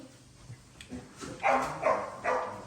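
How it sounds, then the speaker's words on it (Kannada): A dog barks several times in quick bursts, moderately close, with background household noise and no speech. "ಅಲ್ಲಿ ನಾಯಿ ಕೂಡ ಬೊಬ್ಬೆ ಆಗ್ತಾ ಉಂಟು"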